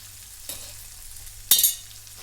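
Curry leaves hit hot oil in a pan with a short burst of sharp crackling and spitting, faint hiss first, then a loud sizzle that quickly dies down.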